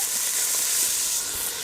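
Beef steak sizzling in a camp oven, a steady close hiss of frying with a soft crackle, alone without any voices.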